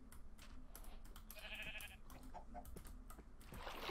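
Sheep in the video game Minecraft bleating in short repeated calls over faint keyboard clicks and game sounds, with one clearer bleat near the middle, heard fairly quietly.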